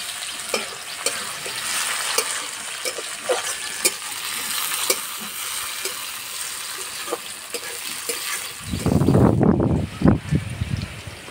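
Chopped tomato hits hot oil with sautéed onions in a pan, giving a steady close sizzle with scattered light crackles, then a louder, fuller burst of frying and stirring near the end.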